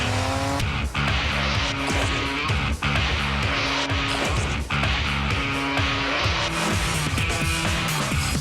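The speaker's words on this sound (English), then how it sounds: "Start your engine." A car engine revs hard and races, with repeated acceleration bursts, tire squeal and skidding over more than eight seconds, loud and close, cut by a few sharp breaks between passes.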